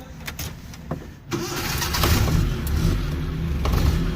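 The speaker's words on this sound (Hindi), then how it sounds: "तो चलिए आपको इस गाड़ी को स्टार्ट करके दिखाते हैं।" A black Suzuki Mehran car engine starts: a few faint clicks and a brief crank, then the engine catches and settles into a steady, fairly loud idle close by, with no talking.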